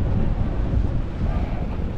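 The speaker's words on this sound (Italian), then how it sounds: "siamo verso le 11 e si è alzato il vento" Wind rises over the sea during sea bream fishing, buffeting the microphone with low, rumbling gusts and a faint wash of surf throughout.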